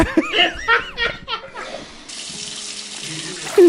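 Running water from a shower sprays steadily in the second half, preceded by bursts of talk and laughter from people in the room.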